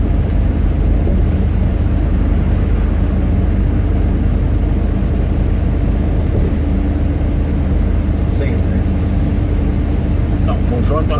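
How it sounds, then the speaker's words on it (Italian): A loud, steady UAZ off-road car engine roar fills the cabin, rumbling and droning without pause, with rattles near the end. "Questo è un rumore che si sente della macchina."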